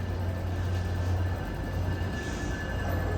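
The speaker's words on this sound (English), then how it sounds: "there's trains." Steady low rumble of a train rolling along, constant and fairly loud, with a faint high whine and no voices.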